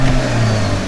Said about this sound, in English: the turbo and the intake noises are so worth it